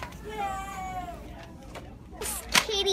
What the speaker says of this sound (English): This kitty we found.